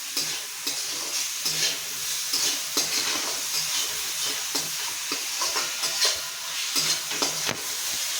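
Chopped tomatoes with salt are sautéed in a hot pan for Gujarati masala fry idli, a continuous close sizzle with rhythmic spatula stirring strokes and no talk.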